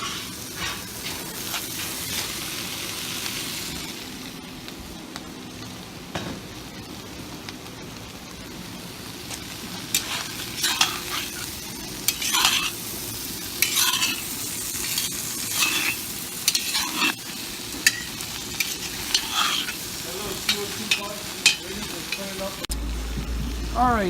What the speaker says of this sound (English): We've been frying them in this jambalaya pot for about 15-20 minutes.